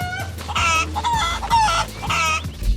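Panicked cucco chickens in Zelda: Tears of the Kingdom cluck and squawk loudly in several frantic bursts close by, no talking over them.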